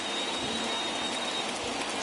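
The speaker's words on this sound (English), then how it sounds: "that rain is really coming down right now" Heavy rain pours down steadily at a White Sox versus Angels baseball game, a dense, even wash of loud downpour with no pauses and no voices.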